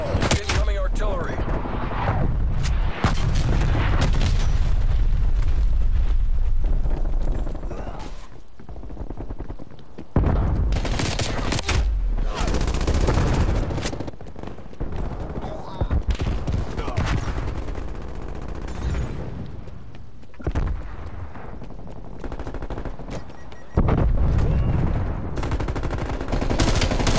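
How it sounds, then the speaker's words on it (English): Incoming artillery fire in a video game: loud, dense bursts of gunfire and heavy blasts rolling almost continuously, with brief lulls, while a voice speaks over the barrage. "Incoming artillery"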